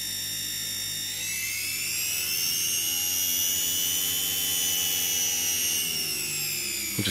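A DC series wound electric motor under regenerative braking gives off a loud steady whine whose pitch rises and then sweeps gradually lower as the RPM changes, heard close with no talk.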